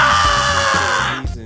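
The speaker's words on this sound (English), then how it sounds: "The screaming of Link, he sounds like Michael Jackson" A male character's scream from Link in a Nintendo GameCube fighting game, a loud sustained high-pitched cry lasting over a second before cutting off abruptly.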